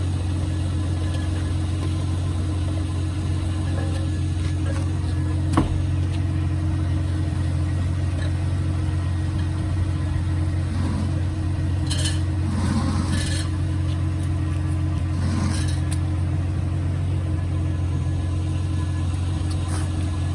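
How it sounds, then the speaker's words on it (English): A 1988 Jeep Wrangler YJ engine idles steadily and close by, a constant low rumble with faint vibration running through the whole stretch, with no talking over it. "Don't know if you can hear me over this truck running"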